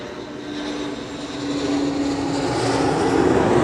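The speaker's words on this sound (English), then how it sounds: "landing here in Embraer 190, arriving from Humberside" An Embraer 190 jet airliner lands at Schiphol airport on the Kaagbaan runway, a steady loud engine roar with a whining tone that swells slightly as it nears, with no talk.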